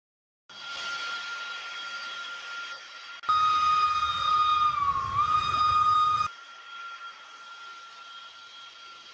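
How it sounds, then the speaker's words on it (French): A computer-controlled sound system for an HO scale tourist model train plays steady locomotive running noise, then a loud sustained steam-style whistle for about three seconds that wavers slightly before fading back into the running sound. "Les annonces de gare et les bruitages de la loco sont commandés par ordinateur"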